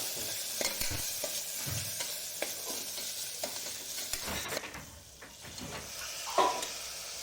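Ground spice paste and tomato pieces fry in a village-style mutton curry pot, a steady close sizzle broken by scraping stirs every second or so, with a brief louder crackle near the end.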